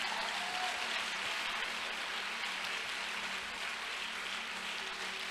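A church congregation at an evening worship service applauds and cheers, making a dense, sustained roar that keeps a steady level throughout.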